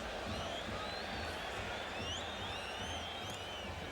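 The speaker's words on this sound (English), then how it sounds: "Hear the crowd reacting at the Bilbao players to try and get possession" Dense football crowd roaring continuously in Athletic Bilbao's stadium as home fans urge their players on, a steady loud wash of noise with scattered whistles and shouts.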